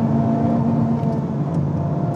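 A Honda Civic Type R's turbocharged engine runs with a steady, loud, close drone, its low tonal hum holding even throughout with no clear rise in pitch.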